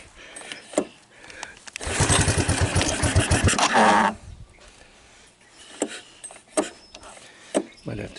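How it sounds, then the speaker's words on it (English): A cold Honda ATC200ES three-wheeler engine catches with a loud, rapid putter for about two seconds, then cuts out, leaving scattered faint clicks and knocks before and after. "Will it start? Right, cold start."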